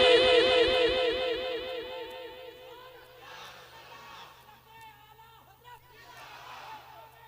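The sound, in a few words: crowd shouting response to religious slogan Nara-e-Takbir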